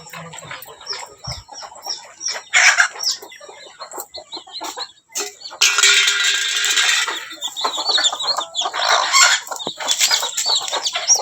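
Chickens scattered with grain cluck busily and keep pecking for several seconds. Loud bursts of wing flapping break in midway, and the flock stays close and lively throughout.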